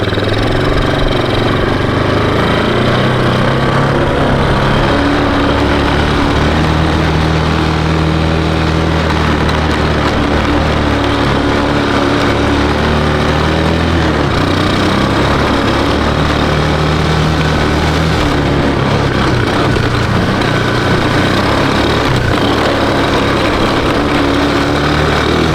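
A 1995 Honda FourTrax 200 ATV engine runs loud and close for the whole stretch, a constant chugging drone with slight rev changes while riding.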